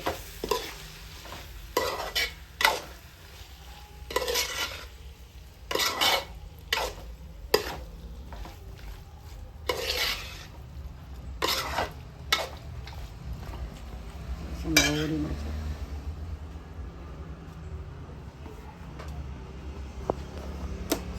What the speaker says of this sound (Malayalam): ഒന്ന് വേവിച്ച് വെച്ച നാരങ്ങയാണ് നന്നായിട്ട് ഇളക്കുകയാണേ